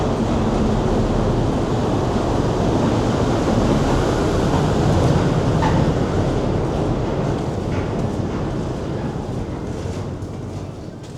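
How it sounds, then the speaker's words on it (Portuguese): Continuous broadband roar of traffic passing along a road beside a tunnel, steady and fairly loud throughout before easing slightly toward the end, with no voices. "Já vem um monte de carro de novo."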